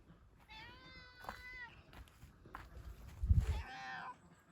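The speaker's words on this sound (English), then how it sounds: "And there's Callie the cat." A cat on a homestead gives two drawn-out meows close by, one near the start and one near the end, with a soft thump and faint rustling between them.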